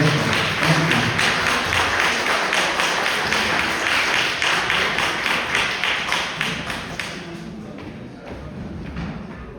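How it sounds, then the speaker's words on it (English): Audience applause at an Ethical Society gathering, a steady wash of many hands clapping that gradually thins and fades out toward the end. "Big round of applause."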